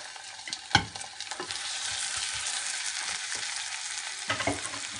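Vegetables sizzling and frying in a pan for rice-stuffed chicken, with steady hissing broken by sharp scraping and clacking stir strokes, close and without talk.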